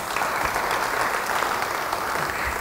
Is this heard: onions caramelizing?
no